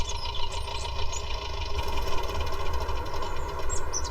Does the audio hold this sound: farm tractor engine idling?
yes